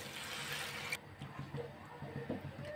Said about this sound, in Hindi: 1/4 कप पानी डाल रही हूँ।